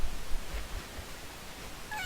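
A cat in the game Catz 3 meows once, a short, faint tonal call near the end over a low, steady background hum.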